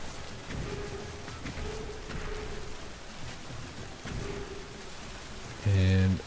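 The Raining Blood ability in the real-time strategy game Immortal: Gates of Pyre unleashes a steady hiss of pattering rain with faint low rumbles, ending in a sudden loud tonal burst.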